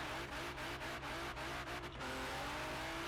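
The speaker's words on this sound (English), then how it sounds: "if you don't have the car noise on, I have a revving noise" A steady, droning car engine rev from a Nissan GT-R R35 in a Plane Crazy video game fills the clip, continuous and loud, with a few faint clicks over it.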